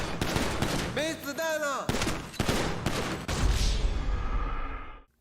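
Gunfire at a shooting range in the video game GTA 5: loud, sharp shots in rapid clusters, with a speaking voice heard between the bursts.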